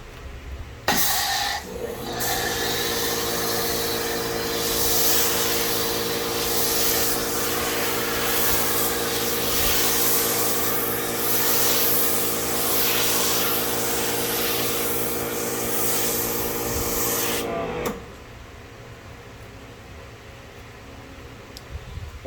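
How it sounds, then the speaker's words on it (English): A pressure washer foam cannon sprays thick soap foam onto a car, giving a loud, steady hissing rush with a droning pump hum underneath that runs for about fifteen seconds and then cuts off abruptly. "Let me grab the foam cannon"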